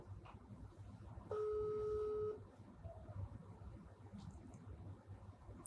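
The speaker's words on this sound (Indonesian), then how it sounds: "Ini saya telepon nih." A phone call being placed gives one steady telephone tone about a second long, quiet over low background hiss and faint room noise.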